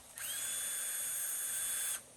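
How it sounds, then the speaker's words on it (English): A small power drill whirs at a steady high pitch for about two seconds, then stops; close and clear, no talking. "You can get yourself a little drill like this."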